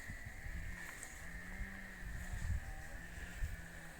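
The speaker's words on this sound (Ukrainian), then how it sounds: "На фоні лунає двигун бензокоси, бензопили" A petrol brush cutter and chainsaw drone steadily in the distance across village garden plots in autumn, a faint continuous engine whine under light wind and rustling.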